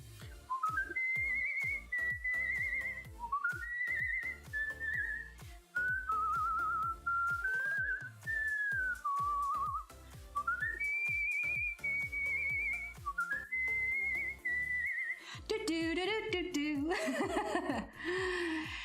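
Someone whistles a wavering melody of sustained notes and slides, with soft chuckles and breathy sounds between phrases.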